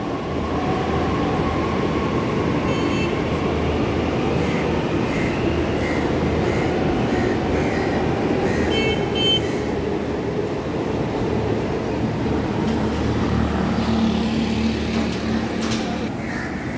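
A metro train rumbles continuously at Delhi's MG Road station, with a steady rolling roar and faint brake squeals and tones over the noise.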